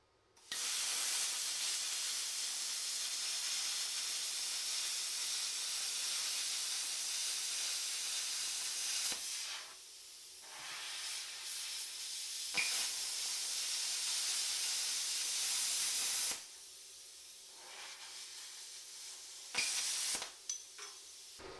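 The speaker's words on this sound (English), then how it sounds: "I'm really glad I got that plasma cutter." A plasma cutter trims back an oil pan stud during an oil pan install on a G-body El Camino, giving a loud, steady hiss for about nine seconds, then several shorter bursts with brief gaps between.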